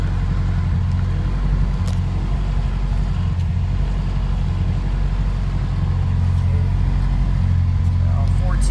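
A third-generation Honda Accord engine idles with a converted fourth-generation alternator charging, giving a steady low rumble that holds unchanged from start to finish, with no voices over it.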